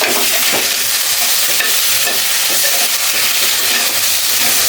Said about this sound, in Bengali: মাছের মাথা ভাজা হয়ে গেছে, তুলে নেব